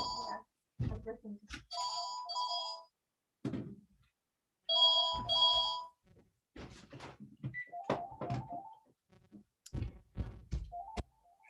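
Telephone ringing in repeated electronic two-tone bursts during a live dance music industry panel, with people talking and shuffling around the rings.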